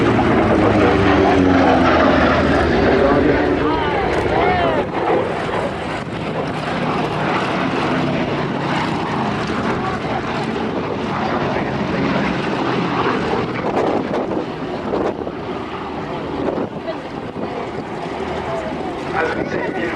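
Vintage propeller aircraft taking off at the 2006 Duxford Flying Legends air show, a loud continuous engine drone that holds steady and slowly thins as the plane climbs away, with a commentator talking over the public address.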